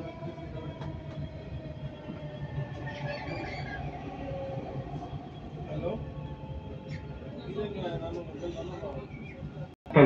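Dubai Metro train rumbling between stations, a steady low interior roar with faint rail clatter throughout, and a brief loud burst right at the end.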